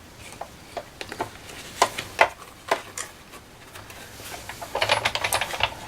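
A die cutting machine cranks an Anna Griffin garden embossing folder through its rollers, giving faint, irregular clicks and ticks that bunch into a quick rattling run near the end.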